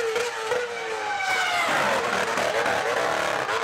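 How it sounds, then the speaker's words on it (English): A Formula 1 car at Montreal downshifts through the gears, its loud screaming engine revs jumping upward in rising sweeps, close and continuous over a few seconds. "when you downshift the car, the revs jump up"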